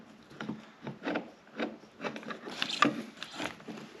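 A bolt on a Volkswagen outside mirror is turned out with a ratchet on a long extension, giving repeated short scraping, rubbing strokes in an uneven rhythm, close and fairly quiet, with no talking.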